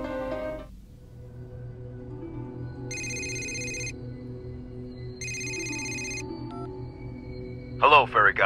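A telephone rings twice in Fairy Godmother Stories, two bright electronic ring bursts about a second long each over a low background hum, followed by a short sparkling chime.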